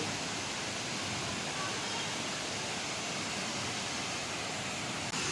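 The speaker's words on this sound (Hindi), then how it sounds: "और देखिए कितना आवाज़ हो रहा है जब ऊपर से पानी नीचे गिरती है" Hundru waterfall near Ranchi, Jharkhand, with water plunging from a height: a steady, loud broadband roar of falling water that fills the whole clip without a break.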